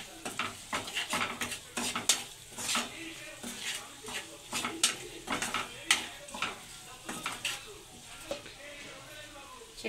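Onions cooking in a pan for a cashew chicken curry, with repeated scraping and clinking of a spoon stirring against the pan over a soft sizzle, irregular strokes throughout.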